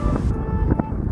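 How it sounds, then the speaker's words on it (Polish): Wind roars steadily over the microphone of a cyclist riding into a headwind along a riverside route, a constant low buffeting rumble with a few brief gusty surges. "Wiatr cały czas wieje z przodu"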